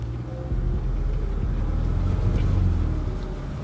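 A new Land Rover Defender grinds forward off-road, its engine rumbling low and steady as the load swells after a brief quieter start.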